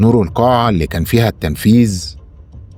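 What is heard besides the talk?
No distinct noise like a dog, phone or traffic.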